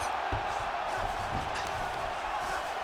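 Arena crowd roaring steadily at a UFC 315 fight between Belal Muhammad and Jack Della Maddalena, a dense, continuous wash of cheering with a few louder swells.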